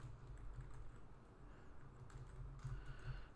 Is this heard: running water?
no